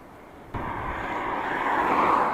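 An airplane flies near an airport in Eskişehir, a steady broadband engine roar that swells suddenly and keeps building over a couple of seconds, fairly close and loud, with no talk.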